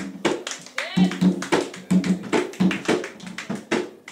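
Church congregation clapping in a steady rhythmic pattern during acclamation of praise, with voices singing and calling out over the claps throughout.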